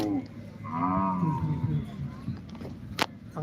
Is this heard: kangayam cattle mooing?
yes